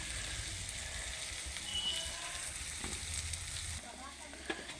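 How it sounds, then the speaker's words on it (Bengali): Sliced onions sizzle in a pan for an egg bhuna, a steady, close, broadband frying hiss that runs unbroken, with a few soft stirring knocks near the end. "পেঁয়াজ ভাজছি।"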